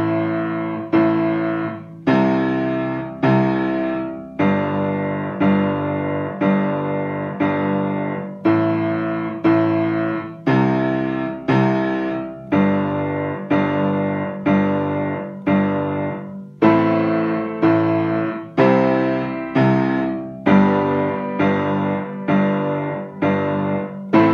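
A piano plays the chorus of a song with steady repeated chords, each struck twice with the left-hand octave, in an even rhythm heard alone and fairly loud.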